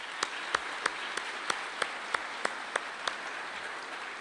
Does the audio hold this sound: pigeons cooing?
no